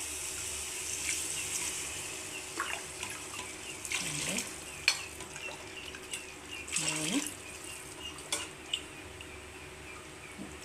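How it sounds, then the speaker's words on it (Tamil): Water runs and splashes into a pot of sautéed prawns for biryani for several seconds, a steady pouring sound with a few clinks, close by. "இப்போது இறா வதக்கிடுச்சு போய் தண்ணி ஆட் பண்ணிடுவோம்"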